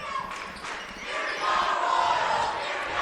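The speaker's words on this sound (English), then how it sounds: "A standing student section donning purple, cheering on the Mascoma defense" A standing student section dressed in purple cheers at a Mascoma Valley boys high school basketball game in Bow, a sustained crowd roar that swells midway, with faint sneaker and ball noises beneath.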